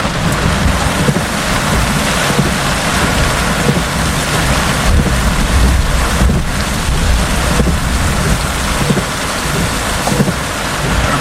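Heavy rain pours down in a Florida thunderstorm during a summer storm chase, a dense, steady roar of rain on surfaces with low rumbling underneath, continuous and loud throughout with no voices.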